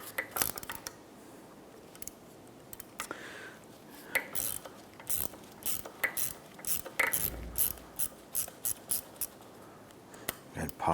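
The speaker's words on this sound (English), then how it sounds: "So we're going to go ahead and remove the nut off of the top of this." A ratchet wrench loosening the top nut of a strut on a 2004-2008 Acura TL, quick repeated clicking strokes in short bursts, close and fairly loud, with small metallic handling sounds between.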